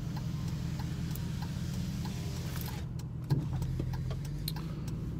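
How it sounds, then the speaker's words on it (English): Steady low rumble of cars passing on a rural road beside a goat pen with a frost free water tank, a continuous near drone with a brief bump midway and no talking. "A lot of traffic today for some reason on this road."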